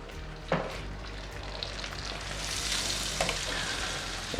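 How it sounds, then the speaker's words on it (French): Beef chunks sear in very hot oil and butter for boeuf bourguignon, a steady loud sizzle broken by a couple of sharp spatters and stirring sounds, with no voices. "Donc là, on cherche juste à faire une coloration sur notre viande."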